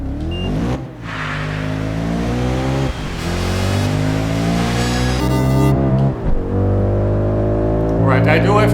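Race car driven in Project Gotham Racing 4: a loud, close engine revving hard through repeated upshifts, pitch climbing then dropping with each gear change, continuous over nearly nine seconds, with speech over it.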